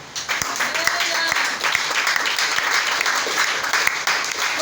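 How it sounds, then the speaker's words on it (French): A church congregation applauds with sustained, dense clapping, with voices mixed into the crowd noise. "Acclamons à Nani"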